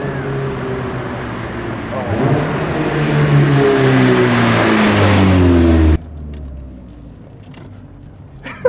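A Honda CRX with a D16A9 engine revs hard, its rising harmonics climbing over about six seconds before the throttle snaps shut and the engine drops back to a low idle, close and loud.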